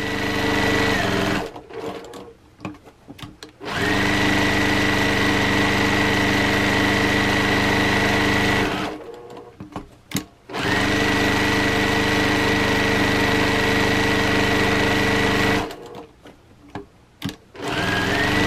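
A sewing machine back stitching fabric for a travel bag runs in three long, steady whirring stretches, separated by brief stops with small clicks and handling noises. No voices.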